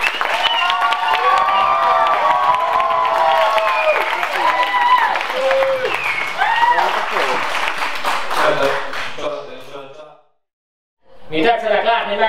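Crowd applause at a Hungarian wedding reception in a tent, a steady patter of clapping mixed with a loud voice, fading out and then bursting back briefly at the end.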